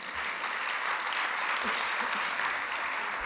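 An audience applauds at the closing of the "Idées mènent le Monde" 2016 event in Pau, a dense, sustained clapping of many hands at steady strength throughout.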